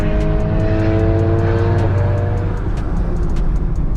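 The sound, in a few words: Chevrolet Camaro ZL1 with Corsa exhaust and American Racing headers revving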